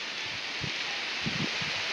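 Heavy unseasonal rain falling over open fields: a steady, fairly faint hiss with a few soft low thumps mixed in, with no voices.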